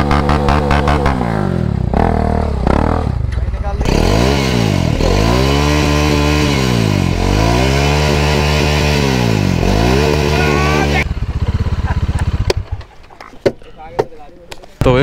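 A motorcycle engine runs loud and close, revving up and down in repeated swells before cutting off, leaving faint clicks and brief sounds; voices are heard over the engine.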